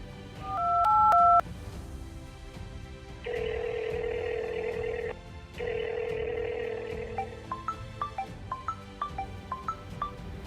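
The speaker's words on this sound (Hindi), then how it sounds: "लगाती हूँ अभी फ़ोन" A phone being dialed before a call: a few sustained tone beeps, then two long ringback-style tones, followed by a quick run of short keypad beeps, clear and close with no talking.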